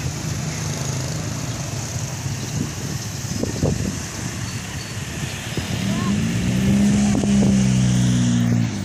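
Congested town street in Bayongbong, Garut, after Lebaran, with a steady wash of car and motorbike engines idling and revving nearby, a vehicle pulling close and accelerating toward the end, and voices faintly underneath.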